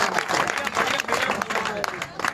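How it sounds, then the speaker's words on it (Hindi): Lively audience clapping at a Hindi poetry recital, bursts of close, uneven applause from a seated crowd with some voices mixed in. "एक बार जोरदार ताली तालियां बजाओ भैया।"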